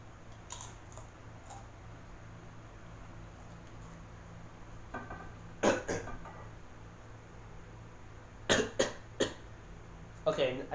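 A person coughs in short, sharp bursts: one cough midway, then a quick cluster of three and another pair near the end, fairly close against quiet background hum.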